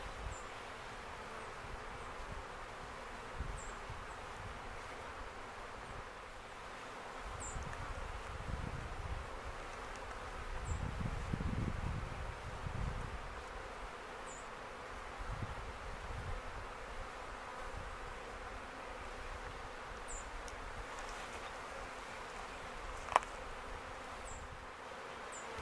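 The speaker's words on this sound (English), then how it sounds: "Okay, yeah, we got a lot of bees in there." A swarm of honey bees buzzes steadily in and around a hive box outdoors, a continuous dense drone that swells louder in the middle and holds at a close, even level with no talking.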